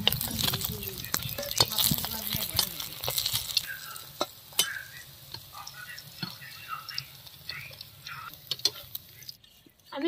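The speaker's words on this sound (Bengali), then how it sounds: "আমি বাকি মাছগুলো ভেজে নেবো একই রকম ভাবে।" Rohu fish frying in oil in a home kitchen, a busy crackling sizzle that is loud at first and then thins into scattered pops and ticks.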